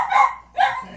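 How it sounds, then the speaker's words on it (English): Pet dogs bark indoors at home, two close, loud bursts of barking separated by a brief pause, followed by a faint whimper. "the dogs are going crazy"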